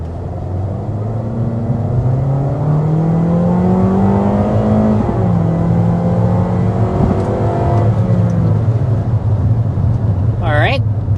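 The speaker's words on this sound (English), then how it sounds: "that was a full throttle acceleration to about 53 miles per hour" A 2026 Toyota Corolla Cross XLE accelerates at full throttle, its engine tone climbing steadily through gear changes in a loud, sustained in-cabin roar, with a short voice at the end.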